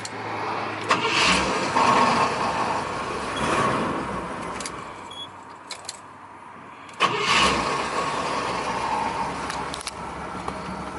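A 1978 Cadillac Eldorado Biarritz engine cranking and starting twice, each start a sharp surge that settles into a steady, close idle with faint clicks and shuffles around it.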